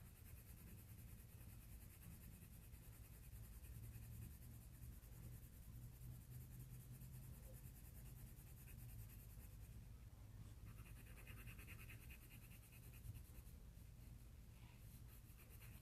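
Prismacolor colored pencil laying down a pass of lemon yellow on paper at medium pressure, a steady, continuous soft scratching that runs close and alone throughout with no talk.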